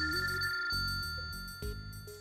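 A phone ringtone repeats indoors in a domestic Eid-themed drama scene, a steady electronic melody cycling in three near, moderately loud bursts with no talk over it.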